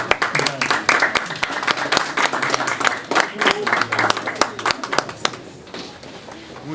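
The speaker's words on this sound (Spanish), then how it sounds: "demos un fuerte aplauso al Señor y a la vida de nuestro señor pastor" A church congregation breaks into loud applause, with sharp irregular claps and scattered taps mixed with voices, before the clapping thins out near the end.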